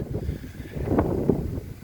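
Steady strong wind rumbles and buffets the microphone during an outdoor walk, low and gusty throughout, with a couple of brief louder puffs near the middle.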